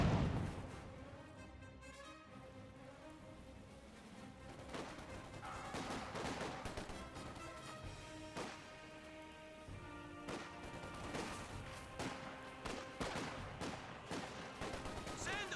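Company of Heroes 2 battle audio: continuous rattling machine-gun bursts, rifle shots and heavier booms layered into a dense, steady wall of combat noise at moderate, distant-sounding volume.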